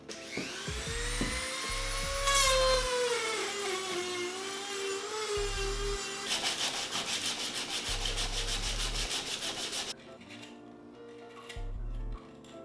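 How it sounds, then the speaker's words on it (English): A Dremel rotary tool grinding and shaping the wooden stock of a homemade pistol crossbow, a close, rising and falling whine with gritty sanding texture, in sustained bursts with short breaks. "use a knife, some sandpaper, probably some files, probably my Dremel, in order to shape this down and make it a little more pretty and ergonomic"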